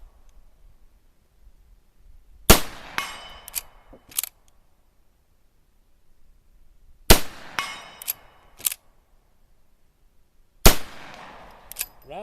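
Three separate groups of sharp rifle reports from an Uberti 1873 Winchester lever-action fired at a target, each loud crack followed by quick smaller follow-up cracks and metallic ringing, spaced several seconds apart with quiet gaps between.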